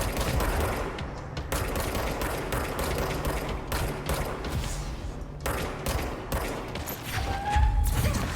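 Sustained gunfire in the video game Control, loud rapid bursts of shots and thuds rolling on continuously, with brief gaps between volleys and no talk over it.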